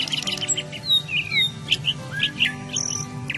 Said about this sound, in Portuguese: Em Davinópolis, só os pássaros desafiam o silêncio.